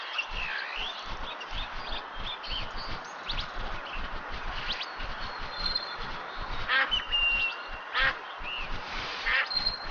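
Ducks in the Duck Dynasty hunting video game quack repeatedly in irregular bursts over a steady background hiss, several calls overlapping at moderate distance, with no talk.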